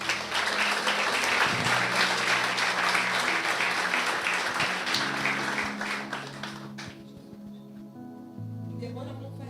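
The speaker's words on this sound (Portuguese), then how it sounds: "Pode aplaudir o Senhor?" Loud, dense applause from a church congregation fills most of the stretch, then fades out toward the end as a low sustained tone and a voice emerge underneath.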